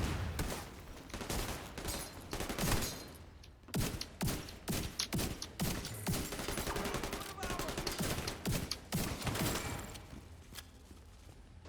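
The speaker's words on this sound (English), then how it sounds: "Looks like a tank in the back shooting grenades." Rapid bursts of video game gunfire in a shooter, sharp cracks and automatic volleys with heavier thumping shots from a tank firing grenades, dense and loud throughout with brief pauses.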